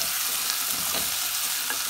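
Pigeon peas fry with onions in a pan on a lowered flame, giving a steady close sizzle with soft scraping as they are stirred, and no voices.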